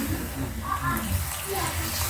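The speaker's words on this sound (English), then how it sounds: "I'm going to add some little water." Hot water pours into a cooking pot over a lowered stove flame, a soft steady splashing and trickling that runs throughout at moderate level with a low background rumble.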